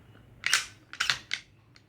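The slide of a Glock 19 pistol is worked by hand during disassembly: a few sharp, close metallic clacks and snaps, loud and separate, with no talking.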